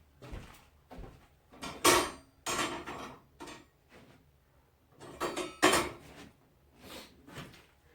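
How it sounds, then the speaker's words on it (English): Metal burner covers set back onto a stove top in a tiny shed-to-house home, a series of loud clanking and scraping impacts in irregular bursts, close by with no talk. "Let me get these burner covers or whatever they're called on the stove real quick."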